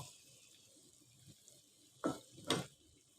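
Dried fish being stirred and cooked down with tomato and spices in a pan for Chattogram-style khaissha, with a faint background hiss and two short, louder scraping stirs near the end.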